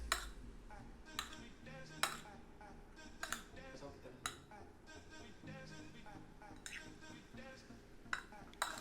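Spoon stirring and clinking against a bowl while a spice mix of pepper and red pepper is combined for bread pizza, giving repeated sharp metallic clinks over a soft scraping background, fairly close.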